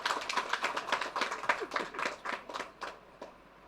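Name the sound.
hand clapping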